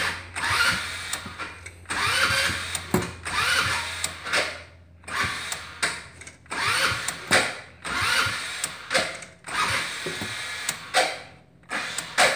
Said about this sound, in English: We're going to do a cold start on the go-kart.